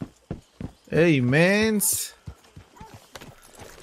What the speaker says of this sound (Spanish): Y aparecen los caballos de la nada, claro.